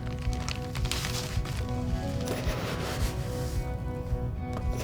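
Sand poured into a measuring cup for a helmet safety experiment, a steady grainy hiss and rustle close by that runs continuously and fairly loudly with no talk.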